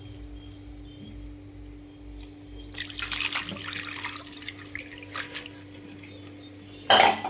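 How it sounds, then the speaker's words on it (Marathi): Water strained off a Rajasthani garlic and red chilli chutney mixture, with soft splashing and trickling that swells for a second or two mid-clip over a low steady hum, then a brief louder clatter near the end. "परत आता एकदा गाळून घेऊया"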